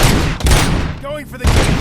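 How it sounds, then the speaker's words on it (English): Dense bursts of gunfire in the RoboCop: Rogue City video game crackle loudly and continuously, with a voice calling out briefly amid the shooting. "Continuing fire!"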